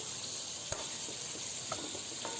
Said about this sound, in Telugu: ఉడకనిచ్చిన తర్వాత మటన్ వేగేంత వరకు వెయిట్ చేయాలి.